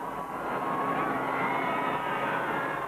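A bright yellow Sea King helicopter flies overhead past crowds at a royal wedding in Windsor, a loud, continuous engine roar and drone that holds steady throughout with no speech.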